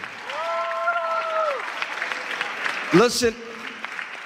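An audience at an interfaith conference claps for the speakers, a steady broadband wash of applause lasting throughout, with a voice speaking over it and some tonal sounds cutting in near the end.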